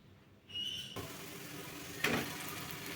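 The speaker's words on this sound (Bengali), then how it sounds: "পেঁয়াজ কিছু ভেজে নিচ্ছি" Onions fry in a pan over medium heat for crispy potato chops, giving a steady close sizzle with a brief louder burst near the end as they are stirred, with no talking.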